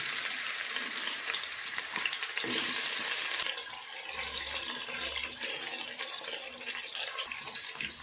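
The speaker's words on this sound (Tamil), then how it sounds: "இதுலேயே உருளைக்கிழங்கு பொறிச்சு எடுத்துக்கலாம்" Potatoes frying in oil in a pot for chicken kulambu: a steady hiss of sizzling, a louder burst of spattering partway through, then a calmer bubbling fry with faint stirring and no voices.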